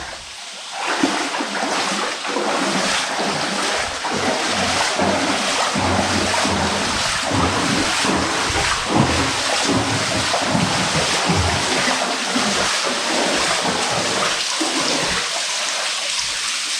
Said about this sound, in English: So this is just where the river's seeping through the walls, through the cracks.